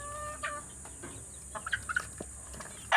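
Chickens cluck in short, agitated bursts, disturbed by a cat, with one louder squawk at the end, close by and without talk.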